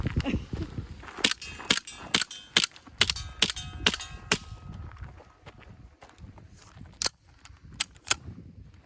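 A CO2-powered Desert Eagle replica pistol fires a string of sharp, metallic cracks, close and loud, coming in uneven bursts of rapid shots with brief pauses between them.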